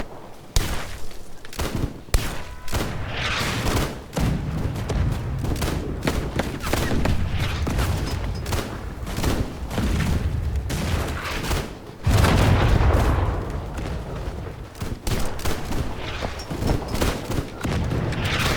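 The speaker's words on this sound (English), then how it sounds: "I'm gonna throw in grenades." Loud, dense gunfire and grenade blasts in a war video game form a nearly continuous barrage of sharp cracks and deep booms that overlap without pause for the whole stretch.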